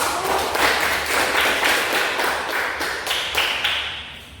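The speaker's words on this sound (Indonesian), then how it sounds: "silakan beri tepuk tangan untuk kelompok 1" A classroom group claps for group 1 during a guidance lesson: steady, dense hand-clapping from many people nearby, with slight rhythmic pulses, fading a little toward the end.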